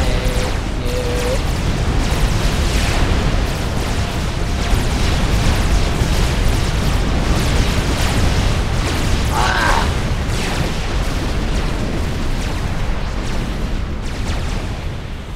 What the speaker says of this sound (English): No, they have artillery!